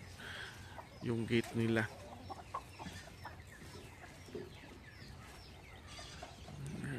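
Chickens on a farm with a goat nearby, clucking in a few short bursts, the loudest near the start, under someone speaking Filipino.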